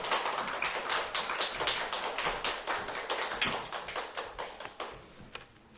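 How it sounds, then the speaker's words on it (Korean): A congregation at a Sunday church service applauds to welcome a pastor, a steady wash of many hands clapping that fades toward the end, with no voices over it. "큰 박수로 환영해 주시기 바랍니다"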